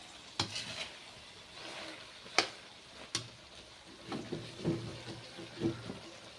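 Green chillies cook in a pan for pickle, a faint steady sizzle broken by occasional soft scrapes and clicks as they are stirred.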